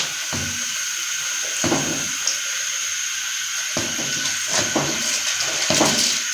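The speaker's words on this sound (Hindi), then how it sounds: "अभी हम इसमें चावल ऐड करते हैं।" Sella rice poured into a pot of boiling water with chicken while making Kabuli pulao, giving a steady watery hiss broken by several short splashing bursts as the grains go in, with no voices.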